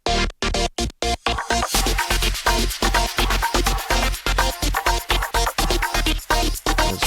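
A wide, sweeping synth chord with stepping phaser, pulsing in rapid rhythmic chops with a bright hi-hat layer on top, loud and dense.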